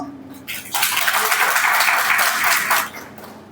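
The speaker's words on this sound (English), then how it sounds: "Kindly give him a round of applause." An audience at an institute of law and social science youth parliament event breaks into a sustained round of applause, dense and even for about two seconds before fading out, with no talking over it.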